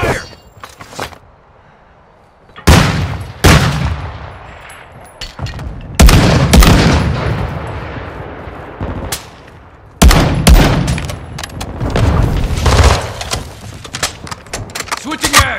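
Call of Duty Modern Warfare II gunfire in loud, sharp bursts and volleys separated by quieter stretches, with sustained rapid shooting near the end.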